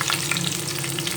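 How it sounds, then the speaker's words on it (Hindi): Ginger, capsicum and onion sizzle and crackle in hot oil in a pan, a steady, close frying hiss throughout with faint stirring, no voices. "थोड़ा सा ऑयल डाल के पैन में गर्म रख दिया। अब ये चीज़ें शामिल कर देते हैं।"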